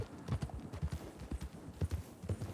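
A horse's hooves clip-clop in a quick, steady rhythm, close and clear, with the rider trying to slow it down and no talking over the beats.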